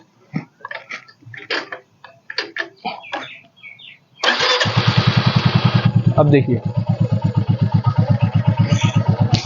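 A Royal Enfield Classic 350 motorcycle in neutral starts up close by after a few spoken words, then settles into a loud, steady thumping single-cylinder idle with a rapid, even exhaust beat.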